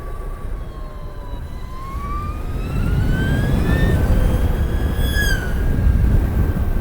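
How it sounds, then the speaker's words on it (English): A wailing siren rises and falls over a low rumbling background at Goodwood, loud and fairly close, with a sweeping electronic tone. "That was a very strange combination of electric bike and siren."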